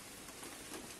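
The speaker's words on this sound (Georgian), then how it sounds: "წვიმის წვეთები ეცემა და" Rain patters on a car during a rainy morning, heard from inside as a faint, even wash of drops with a few slightly louder taps and no voices.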